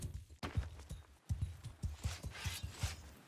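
Horses of mounted archers trot across a Mount & Blade II: Bannerlord battlefield, their hooves clip-clopping in a steady, fairly quick rhythm of distinct thuds, moderately close and alone without talk.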